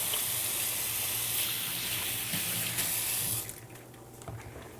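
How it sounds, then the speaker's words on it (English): Hands being washed under a running kitchen tap, a steady close hiss of water that drops away and turns to faint drips and splashes near the end, with no talking. "I'm going to wash my hands just a sec"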